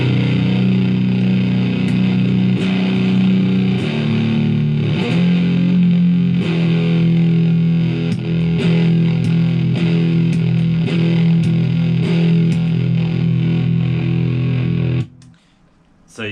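Heavily distorted electric guitar through a high-gain boost pedal chugs and sustains loudly and continuously, with a thick saturated tone, then cuts off abruptly near the end.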